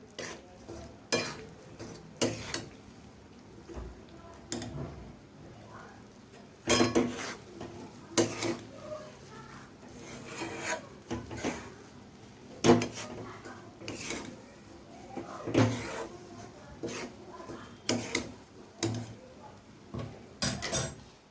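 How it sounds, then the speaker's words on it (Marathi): Peanut burfi mixture with crushed peanuts being mixed in a pan, a series of irregular scraping strokes and metallic clanks of a spoon against the pan, moderately close, with a few faint words of speech. "आणि हे चांगलं मिक्स करून घ्यायचं आहे"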